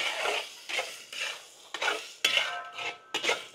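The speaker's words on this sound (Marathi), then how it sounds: "बारीक चिरलेला पुदिना आहे, व्यवस्थित परतून घेऊ" Biryani gravy with kasuri methi and chopped mint sautéed in a pan, a spoon stirring in rhythmic scraping strokes about every half second over a soft sizzle, close and clear, no speech.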